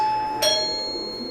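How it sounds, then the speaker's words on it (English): A doorbell chimes once, a bright ringing tone that lingers and fades over a steady background hum. "That was my doorbell."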